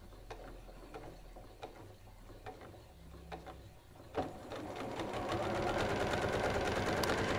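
A sewing machine stitches diagonal seam tape onto fabric, its needle clattering in a steady mechanical rhythm that starts sparse with faint taps, then speeds into a louder, continuous whirring run close by.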